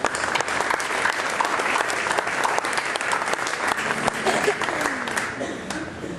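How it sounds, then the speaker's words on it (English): At an FFA banquet, the crowd applauds honorees with a full, sustained round of clapping that holds steady and fades slightly at the close, with a few voices murmuring underneath. "Let's give those guys a round of applause."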